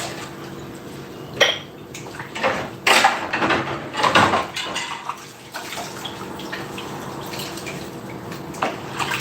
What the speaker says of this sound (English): When you're washing your glasses or cups, wash the mouth area.